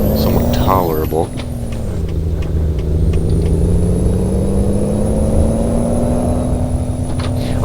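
A Peterbilt 379 truck driving in Euro Truck Simulator 2, its loud, steady engine drone dropping in pitch early on as if shifting gear, then rising slowly and holding, with a brief voice near the start.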